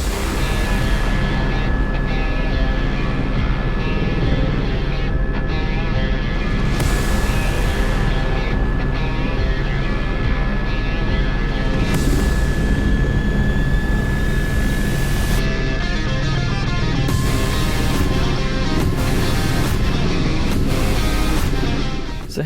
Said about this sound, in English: So here I've just brought the aircraft to a hover, probably about 20-30 feet above the swamp